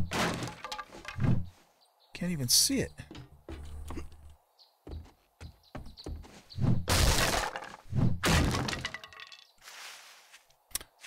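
Glass shattering in the survival video game 7 Days to Die, several loud crashing bursts and tinkling breaks in quick succession, with someone talking in between.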